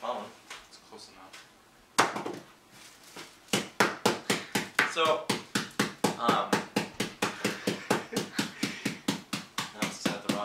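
A phone used as a makeshift hammer crushes food in rapid, steady knocks after a short pause, loud and close, with a few words spoken at the start.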